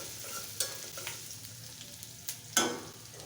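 Chopped onion and garlic fry in a pan for a dried-fish and vegetable chorchori, giving a soft, continuous sizzle broken by a few sharp stirring clinks.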